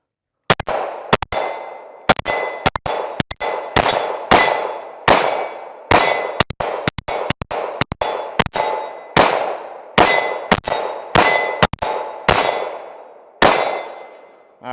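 A full handgun magazine fired at steel targets on a competition range, each shot a sharp crack followed by a bright ringing clang of hit steel, about twenty shots in quick irregular bursts, loud and close with no talk.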